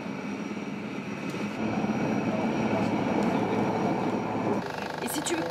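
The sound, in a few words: military helicopters flying at night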